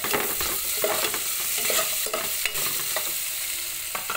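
Chopped onion hits a hot pan and sautés for a mung bean stew, a steady close sizzle with scraping spoon strokes and small clatters throughout, no voices.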